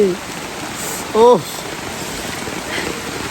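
Steady rain patters down across a surface outdoors, a constant hiss throughout, with a brief burst of voice near the middle.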